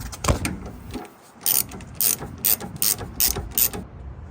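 A hand ratchet clicks in quick, close bursts of about six strokes, working a 17 mm bolt loose on a Honda S2000 during a coilover install.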